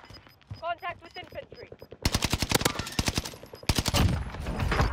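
Rapid bursts of automatic gunfire from a video game shooter, loud and close, firing in sustained volleys with short gaps, mixed with game sound effects after a quieter stretch at the start.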